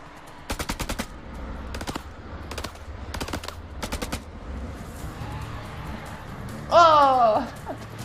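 Bursts of automatic machine gun fire in House of Ashes, several rapid volleys spaced through the clip, fairly loud over a low rumbling game ambience, with a brief higher electronic warble near the end.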